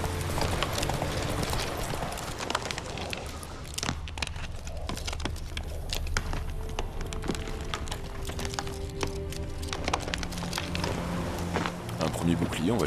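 Horse hooves clip-clopping in The Witcher 3 video game, a steady rhythmic trot with crisp hoof strikes continuing throughout, accompanied by someone talking and occasional game sounds.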